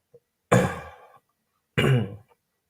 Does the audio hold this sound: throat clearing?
yes